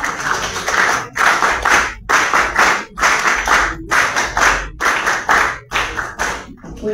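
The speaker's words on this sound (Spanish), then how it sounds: "Un aplauso para ella, por favor." Audience at a formal anniversary ceremony gives a round of clapping, heard as close, rhythmic bursts of hands separated by short pauses, loud and without talk.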